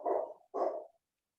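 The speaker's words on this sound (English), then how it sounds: "Stop barking." Dog barking twice in quick succession, two short muffled woofs heard nearby, followed by silence, during an online public board meeting.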